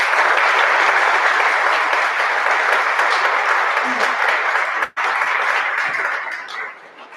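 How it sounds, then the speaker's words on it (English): A round of applause from the crowd at a winter sports awards ceremony, sustained and full, briefly cutting out for an instant and then tapering off toward the end. "Let's give them a round of applause."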